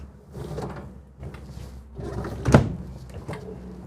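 A kitchen drawer in a 2020 Newmar King Aire RV slides and shuts nearby, with a sharp thunk around the middle, amid soft handling noises and a low background hum.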